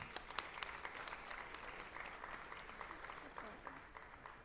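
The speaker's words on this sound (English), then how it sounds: "Can we have a huge round of applause for all of us?" Faint, distant applause from a gathered audience, a soft wash with a few sharper individual claps standing out and some muffled voices underneath.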